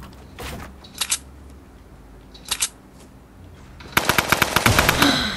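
Rapid burst of automatic gunfire from a weapon in the video game Fortnite, played on PS4, with a few separate clicking shots earlier and a loud sustained volley near the end.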